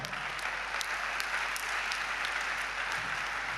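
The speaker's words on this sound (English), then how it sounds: "He's deserving of the applause." Sustained applause from a crowd at a WAEC distinction awards ceremony for top 2023 WASSCE students, dense and steady clapping throughout without pause.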